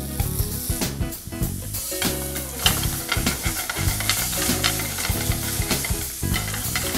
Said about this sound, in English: I want to baste my meat with this buttery gravy for 1 minute in the pan.